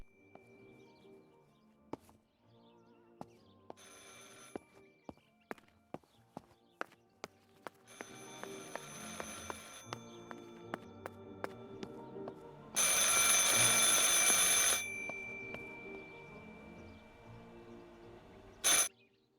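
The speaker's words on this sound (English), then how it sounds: "I should pick up the phone but remain silent." A telephone bell rings in repeated bursts, loud and close, amid a busy background of clopping hooves, footsteps and street bustle, with no one speaking.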